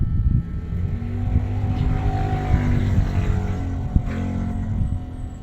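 Motorcycle engines hum and rumble outside, a steady low drone holding throughout with slight swells as bikes pass, and one sharp knock near the end.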